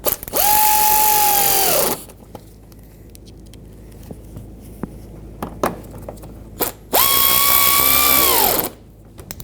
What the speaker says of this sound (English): Now let's insert all the screws and tighten them up.